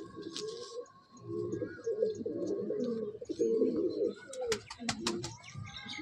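Madrasi pigeons cooing in a loft, a steady run of low, throbbing coos close by, with scattered chirps and brief sharp rustles or wing noises near the end.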